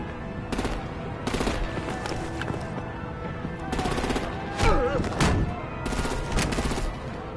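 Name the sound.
artillery gunfire in video game Batman The Enemy Within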